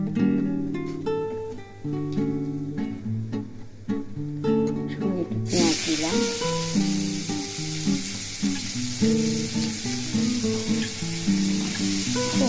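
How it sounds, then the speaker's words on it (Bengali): Cumin seeds sputter in hot oil as a tempering for a potato and pointed gourd korma, a loud crackling sizzle that swells partway through, heard beneath background music with no speech. "একটু জিরে ফোটন দিলাম"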